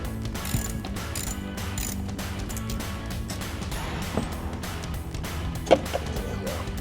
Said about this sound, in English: I'm gonna start tearing apart the carburetor